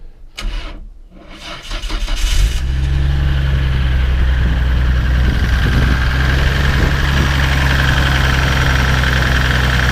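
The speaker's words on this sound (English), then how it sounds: "it's going to fire it up because it doesn't sound pretty in the engine either" A 1996 Nissan Skyline R33 GTR Nismo 400R engine cranks, catches and fires up, then settles into a loud, steady, rough-sounding idle with a deep rumbling drone.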